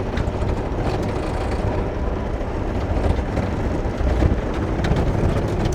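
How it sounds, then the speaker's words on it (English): A 2009 John Deere 60D rubber-track mini excavator with long arm and cab swings and tracks in high gear at once, its engine a steady, loud rumble close by, with rattling and clanking from the tracks throughout. "And there I'm swinging and tracking in high gear at the same time."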